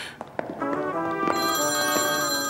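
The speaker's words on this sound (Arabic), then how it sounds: "موبايلي عم بيرن" A mobile phone rings with a bright repeating electronic ringtone, loud and steady after a few knocks and rustles, with no talk.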